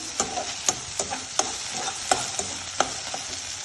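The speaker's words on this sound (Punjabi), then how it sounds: "ਆਪਾਂ ਇਹਦੇ ਵਿੱਚ ਇੱਕ ਚਮਚਾ ਭਰ ਕੇ ਲਸਣ ਅਦਰਕ ਦਾ ਪੇਸਟ ਪਾ ਦਾਂਗੇ ਮਿਲਾ ਦੇਣੇ ਇਹਨੂੰ" Sliced onions frying with ginger-garlic paste, stirred with a spoon in a pan for a mixed vegetable curry: a steady close sizzle broken by repeated scraping stir strokes about every half second.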